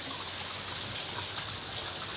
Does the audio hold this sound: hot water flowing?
yes